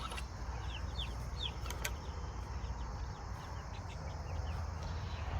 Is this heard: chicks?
yes